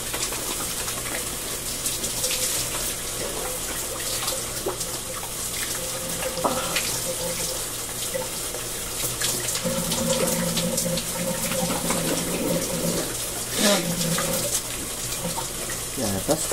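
Tap water runs steadily into a bucket in a home bathroom, a continuous close splashing gush lasting throughout, with faint background music and brief low voices underneath.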